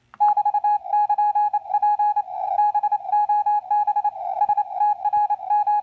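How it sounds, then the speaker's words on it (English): Radio signal picked up by an RTL-SDR dongle receiver, heard as a steady electronic tone with a faint overtone layer, keyed in short on-off pulses like a beacon or Morse transmission, loud and clean. "I'm going to turn up the volume on the SDR receiver."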